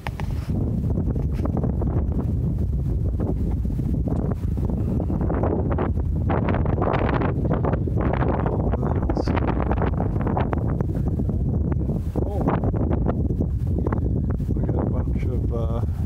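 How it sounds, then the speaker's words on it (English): Wind blowing outside a sailboat cabin on a river trip, a steady loud rushing roar with gusty rumble that fills the whole stretch, with voices talking underneath. "I can hear the wind breezing up out there."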